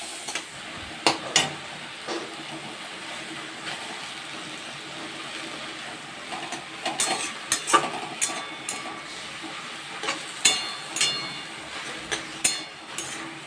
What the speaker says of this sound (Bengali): পাট শাক ভাজা করতে গেলে কন্টিনিউ নেড়ে যেতে হবে